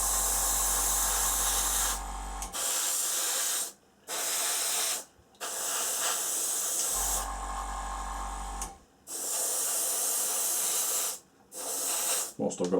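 Airbrush spraying primer inside the wing box of a Revell C-17 Globemaster III plastic model kit, heard as several close, steady hissing bursts with short gaps between them and a low hum during two of the bursts.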